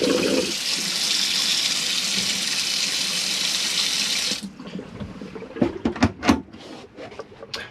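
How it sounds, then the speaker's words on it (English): Tap water runs steadily into the sink of a Hymer T695S motorhome, a loud, even rush for about four seconds before it shuts off, followed by a few light clicks and knocks. "This is just showing that your water system is working and your hot water is really warm there."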